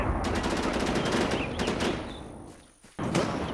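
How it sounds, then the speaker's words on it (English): Rapid sniper gunfire in a multiplayer shooter video game, dense overlapping shots crackling loudly almost without pause, dropping briefly before another burst. "I have two snipers shooting at me."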